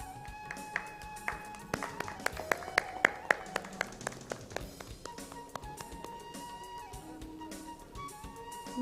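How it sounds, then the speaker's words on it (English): Scattered audience clapping at a diabetes summit as mementos go to the speakers, with sharp individual claps rising and thinning out over several seconds while voices talk underneath. "May we all please clap for them."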